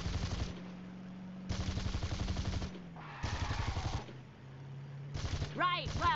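Video game gunfire sounds in bursts of rapid automatic shots, alternating with gaps where a low hum and game effects carry on, ending with some brief chirping game tones.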